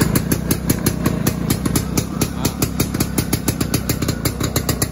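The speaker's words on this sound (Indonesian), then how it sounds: "Oke, kita cek sound motornya." A 1981 Yamaha V80 motorcycle engine idles steadily close by, a loud, even two-stroke putter with rapid regular pulses and no talk over it.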